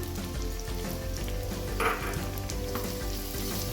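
Onions frying in oil with spices for a clay pot mutton curry, a continuous dense sizzle with a brief stir midway, close and steady, no voices.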